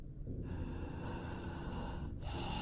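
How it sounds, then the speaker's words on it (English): Loud, close breathing straight into a microphone with no pop filter, heavy airy inhales and exhales with rough low-end buffeting, steady over a few seconds with no talk. "The sound of someone breathing into their microphone was what I was greeted with."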